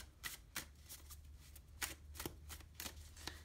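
Tarot cards shuffled by hand in a quiet room, a run of crisp riffling bursts arriving in a loose rhythm about every half second, close and fairly soft.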